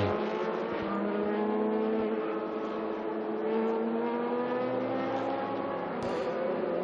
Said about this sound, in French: Riley Scott, moteur de 6 litres de cylindrée.